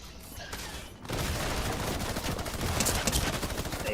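Gunfire in the video game Fortnite, a dense, loud, continuous burst of rapid automatic shots that starts abruptly after a second of quieter noise and keeps going to the end.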